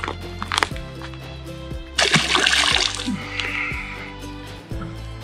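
A hooked smallmouth bass thrashes at the surface of the Black River in Arizona, throwing bursts of close splashing and sloshing, with a short sharp slap early on and a sustained splatter in the middle.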